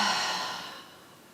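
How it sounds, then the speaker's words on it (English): A slow, steady exhale during yoga breathing practice, a soft breathy rush that starts fairly strong and fades gradually over about a second, heard close and alone. "And exhale slow"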